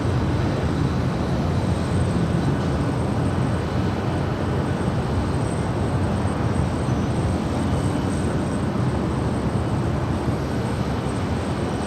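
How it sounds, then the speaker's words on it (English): A DHL Airbus A330-200 freighter going around at Los Angeles airport, a loud, steady, broadband jet roar that holds constant without letup. "That is DHL340 coming in from Leipzig, an Airbus A330-200 freighter."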